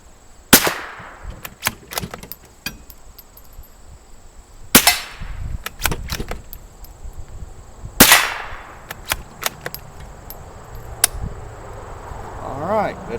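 A Ruger American .22LR rifle fires several sharp, cracking shots at irregular intervals, with smaller clicks and mechanical noises in between. The shots sound fairly close.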